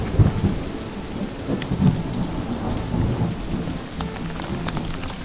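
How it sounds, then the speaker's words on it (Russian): Hail pours down in a July thunderstorm, a dense steady drumming on surfaces close by, with low rumbles of thunder and no voices. "Это град пошел в июле"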